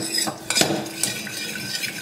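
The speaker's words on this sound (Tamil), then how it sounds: "இப்போ இந்த பருப்பை வந்து நல்லா மசிச்சு விட்டுக்கலாம்" A utensil mashes cooked toor dal in a pot for rasam, making a short burst of close, loud scraping and clinking.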